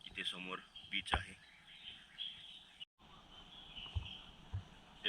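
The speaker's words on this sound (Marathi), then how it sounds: "पक्ष्यांचा किलबिलाट ऐकायला येतोय आपल्याला." Morning birds chirp near a beach on a cool morning, with scattered high calls and tweets alongside low background noise and a brief gap midway.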